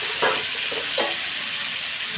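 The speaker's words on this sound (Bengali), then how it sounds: "আমি সয়াবিন আর আলুটা ছেড়ে দিচ্ছি।" Soybean chunks and potatoes dropped into hot oil in a pan, a steady bright sizzle with a few louder crackling bursts near the start, close and alone.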